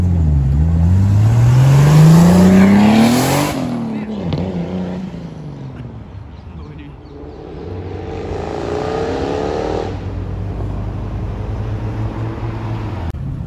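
Two Audi R8s and a green Audi RS3 leave a car meet, one engine revving hard and rising in pitch nearby before others accelerate past, loud throughout with people talking in the background.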